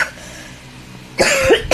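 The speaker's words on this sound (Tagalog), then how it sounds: "Tigas ng ubo ko." A couple of harsh, close coughs from a smoker burst out after a moment of quiet, the second following quickly on the first.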